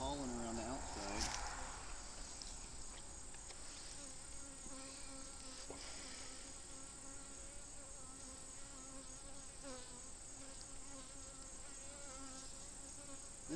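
Honey bees swarm around an open hive while a beekeeper inspects the frames for the queen. They make a steady, loud, close droning buzz that fills the whole stretch, with a brief sharper sound near the start.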